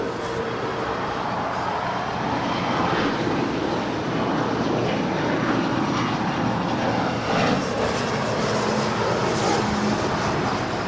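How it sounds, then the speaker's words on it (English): A JSX Embraer E135 LR jet departing LAX, a steady, broad engine roar heard from a distance, holding at an even loudness throughout with no voices. "That is JSX Flight 323 departing to Las Vegas. It's an Embraer E135 LR."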